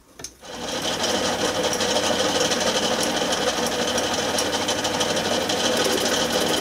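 Milling machine facing off the end of a metal part for a garden railway carriage build, starting up and then running as a loud, steady, busy whir with rapid chatter throughout.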